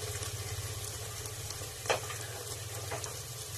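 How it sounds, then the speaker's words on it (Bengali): Spice paste with a whole garlic clove frying and being stirred in a pan for chicken kosha, a steady close sizzle with one sharp scrape of the spoon midway. "এবার ভালো করে নাড়িয়ে চাড়িয়ে মশলাটা কষিয়ে নেব"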